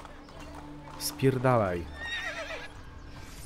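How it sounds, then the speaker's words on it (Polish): A horse in Assassin's Creed: Brotherhood arrives with clip-clop hooves and lets out a loud, wavering neigh, while someone talks over the game audio. "To mi koń przyjechał."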